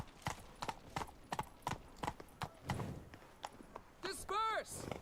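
Roach, a horse in the video game Witcher 3, trots with a steady, close clip-clop of hooves, then gives a brief whinny near the end.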